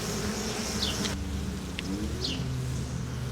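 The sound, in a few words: bees buzzing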